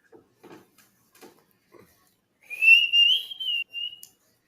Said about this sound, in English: Me whistling there is me trying to keep my mouth shut.